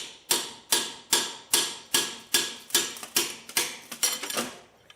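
A hammer whacks a seized piston in a Chevy 283 engine about a dozen times in a steady rhythm: sharp, loud metallic blows that come slightly faster toward the end.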